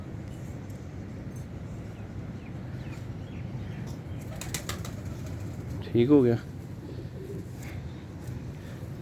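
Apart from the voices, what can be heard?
pigeons cooing and flapping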